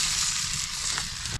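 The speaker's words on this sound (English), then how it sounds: "it sure is sizzling" Food sizzles and chars on a hot outdoor grill, with vegetables and a bird leg cooking: a loud, continuous hiss of frying fat right up close, with no talking.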